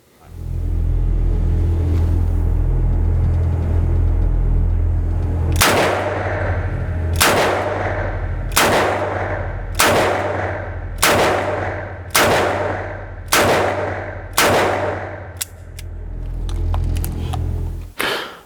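A Smith & Wesson 327 TRR8 Performance Center revolver fires .38 Special rounds in double action at a shooting range: eight loud, sharp shots at a steady pace over a constant low background rumble.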